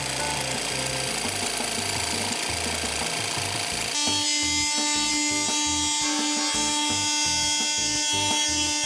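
Sandpaper is rubbed back and forth across an MDF board, first with medium grit and then with fine grit. It makes a close, continuous rasping scrape whose texture changes partway through when the paper is swapped.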